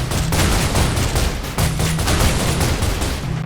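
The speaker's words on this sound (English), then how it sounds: "world interactions also include explosions" Dense, continuous explosions and rapid gunfire-like blasts from the video game Alien Dawn, loud and relentless with overlapping booms throughout.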